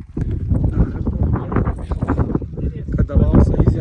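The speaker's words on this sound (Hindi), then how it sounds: "इस वक्त देखो हवा का जितना है, हवा चलना शुरू हो गया है" Wind blows outdoors at a base camp, rushing and buffeting against the microphone almost continuously while someone talks over it.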